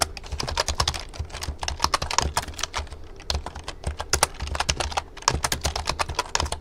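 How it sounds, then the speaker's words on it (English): Steady, rapid typing on a computer keyboard while entering information, with dense clicking keystrokes in uneven bursts and short pauses, close and fairly loud with no talking. "So this is a nice part where you don't really have to use your brain as much. You just type it in."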